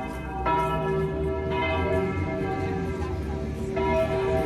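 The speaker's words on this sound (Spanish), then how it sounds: "la Catedral de la Almudena está tocando sus campanadas, se escucha precioso" The bells of Almudena Cathedral in Madrid ring out in a steady, sustained peal, rich overlapping tones resonating continuously with a faint hum of background noise.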